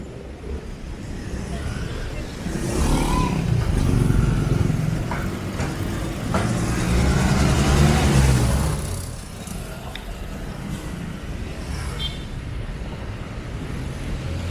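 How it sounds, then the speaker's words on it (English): Cars and motorcycles move along a busy Cebu street in the afternoon, engines rising to a louder passing swell midway before settling back to a steady roadway rumble. A voice speaks now and then. "Influx of traffic start to build up."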